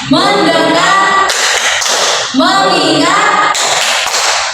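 Sung classroom clap chant: unison voices alternate with two bright, dense spells of quick group clapping, loud and near.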